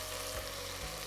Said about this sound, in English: So the idea is to get the meat to start browning as well.